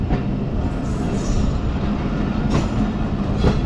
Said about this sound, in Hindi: आप बुध रेलवे स्टेशन से गुज़र रहे हैं